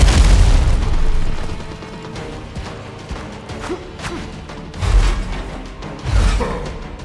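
Bombs blast in the video game Windrose, a heavy boom at the start followed by more deep explosions and crashes later on, loud and close with no voices.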